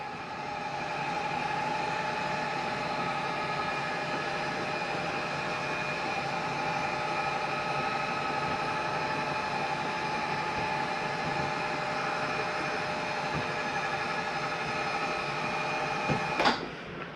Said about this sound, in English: I'm gonna bring this bed up.